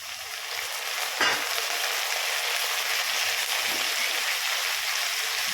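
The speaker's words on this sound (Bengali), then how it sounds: "এগুলো একটু ভাজা ভাজা করে নেবো" Steady sizzling and spattering of chicken pieces frying in a hot pan, a continuous hiss with a brief clatter near the start.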